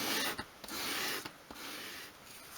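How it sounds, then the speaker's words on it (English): A small wooden piece for a 1/12th scale dolls house kitchen is swept at a 45-degree angle across a sheet of sandpaper on a worktop, giving several quiet, close rasping strokes separated by brief pauses. "I'm going to bevel one edge of each piece, and to do that I just place it at a 45-degree angle on a sheet of sandpaper on my worktop"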